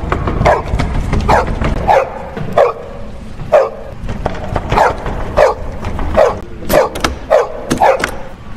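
A dog barks repeatedly in short, sharp yaps at an irregular pace, fairly close, over a rough background rumble.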